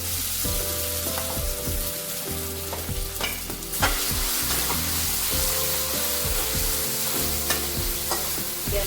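Potato slices cut into vertical strips frying in a wok, a loud steady sizzle with repeated stirring scrapes and clatters throughout, no voices.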